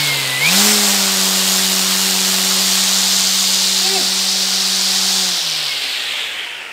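An EGO 56V battery-powered electric string trimmer spins up on the trigger to a steady, smooth whine that runs for several seconds and then winds down, fairly loud and close.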